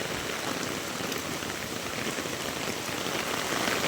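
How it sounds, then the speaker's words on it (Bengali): A dense, steady roar of torrential rain pours down without pause during a storm with gusty winds, loud and close, with no voices. "প্রচুর পরিমাণে মুসলধারে বৃষ্টি হচ্ছে"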